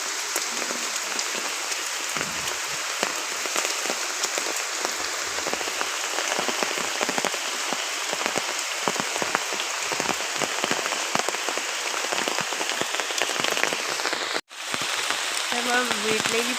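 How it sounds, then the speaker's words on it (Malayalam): Steady evening rain pours down on a village road, a dense, continuous patter of drops on surfaces close by, with no talk and just a brief dropout near the end. "മഴ കുറവുണ്ട് നേരത്തെ"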